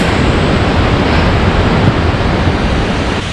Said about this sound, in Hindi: हम फाइनली पहुंच गए हैं जोगिनी वाटरफॉल्स।